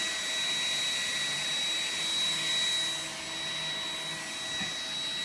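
A robot vacuum cleaner sweeps a floor with a steady, even motor hum and faint brushing, running continuously at moderate volume with no talk.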